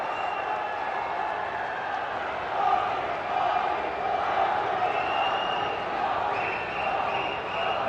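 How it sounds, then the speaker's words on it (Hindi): A large crowd claps and cheers to welcome the Prime Minister at an election rally in India. The broad, sustained applause and crowd roar run the whole way through, with some voices mixed in. "जोरदार तालियों से स्वागत माननीय प्रधानमंत्री जी का।"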